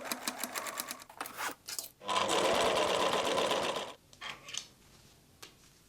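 A sewing machine stitches the center seam of old jeans for a shoulder bag, with short bursts of rapid clatter, then a sustained two-second run of close, loud stitching, followed by lighter handling clicks.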